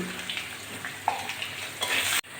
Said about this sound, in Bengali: আলুগুলো একটু ভেজে নিই